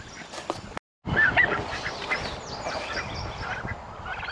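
Farm ducks and turkeys call loudly and close by, with repeated honking and quacking over a busy background. The noise cuts out for a moment, then the flock carries on.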